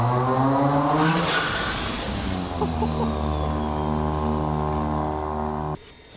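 Rotary-engined Corvette revving hard under boost, a loud, close, sustained buzzing wail that climbs and holds, then cuts off abruptly near the end.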